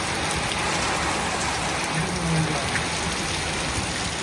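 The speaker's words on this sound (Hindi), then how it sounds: "कितनी बारिश पै रही है।" Heavy rain pours down in a dense, steady hiss, loud and unbroken throughout.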